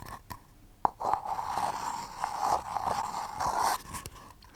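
Light taps on two small paper cups, close and dry, landing as a handful of sharp irregular clicks over a soft hiss, with no talking.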